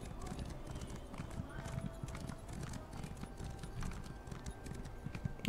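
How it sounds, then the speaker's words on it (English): Hooves of a horse galloping in the Elder Scrolls Online video game drum in a steady, fast clip-clop rhythm throughout, with people talking over it. "Εντάξει, είναι significantly faster όταν τρέξουμε το άλογο"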